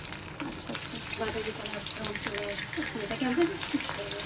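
Foli fish kopta balls frying in hot oil, a continuous close sizzle with bubbling, and a brief voice rising faintly near the end.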